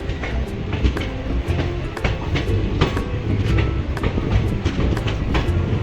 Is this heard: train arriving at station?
yes